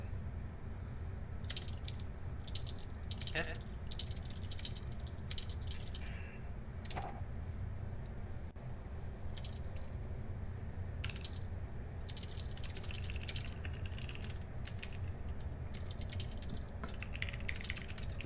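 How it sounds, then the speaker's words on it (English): Computer keyboard keys clack in scattered, uneven bursts of typing over a steady low background hum, fairly close, without audible talk. "You two are typing to each other."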